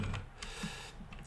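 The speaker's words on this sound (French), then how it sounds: "j'ai un clavier où je vois pas les touches, hein, donc c'est pour ça que je tapote un peu de temps en temps." Light, sporadic tapping on a computer keyboard during a coding lesson, a few soft scattered keystrokes close by over a quiet room background.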